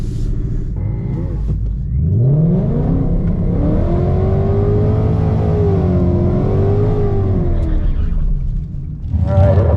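A Lamborghini Huracan revs hard at a drag strip, its loud engine rising in pitch from a low rumble and holding a steady high whine before dropping off, with another burst of revving at the end.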